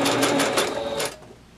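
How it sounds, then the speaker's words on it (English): A domestic sewing machine stitches through paper laid over its throat plate for a quilting quarter-inch seam guide. It runs as a quick rhythmic burst of stitching for about a second, close and clear, then stops abruptly. "I'm going to continue stitching a little bit more so that the entire paper is kind of covering the whole throat of the sewing machine"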